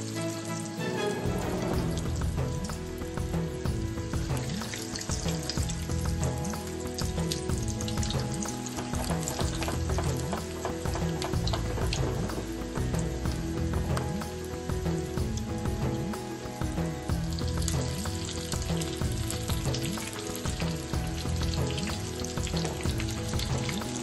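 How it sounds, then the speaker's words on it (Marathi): Crab lollipops deep frying in oil on low heat, a dense, steady bubbling sizzle that carries on unbroken throughout, no one talking. "आता आपण डीप फ्राय करून घेऊया।"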